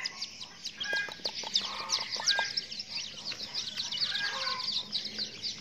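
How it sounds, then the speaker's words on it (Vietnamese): A newly hatched junglefowl chick gives thin, high chirps and peeps in short irregular runs, close but faint, over a quiet background. "Cho các bạn xem cận cảnh một con gà rừng con nha."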